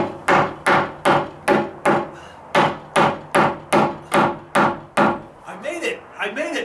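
Sharp, regular hammer blows ring out as joist hangers are nailed onto a deck frame during a dry rot repair, about a dozen evenly spaced strikes close by, then a few lighter taps.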